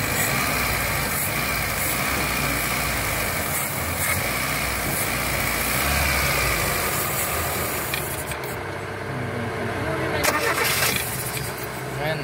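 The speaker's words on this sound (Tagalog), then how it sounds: "Namamatay-matay yung makina kung nakikita nyo mga guys." A car engine idles roughly and keeps nearly stalling after fuel was added in rainy weather, its uneven rumble running steadily for about twelve seconds at close range.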